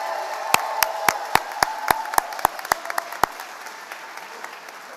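Scattered handclaps ring out at an Air Force ROTC commissioning ceremony at Charleston Southern University, about a dozen sharp, distinct claps in a loose rhythm over a quiet room murmur, then fading out.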